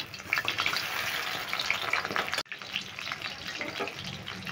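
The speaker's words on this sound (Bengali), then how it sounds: "দেখো আমি 2-3বার উল্টিয়ে পাল্টিয়ে ভালো করে ভেজে নিলাম।" Pieces of fish for chilli fish fry in a pan of oil over medium-low heat, giving a continuous close sizzle and crackle with a short break midway.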